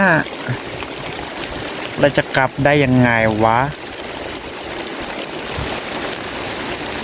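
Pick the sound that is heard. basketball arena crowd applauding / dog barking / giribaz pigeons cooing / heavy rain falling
heavy rain falling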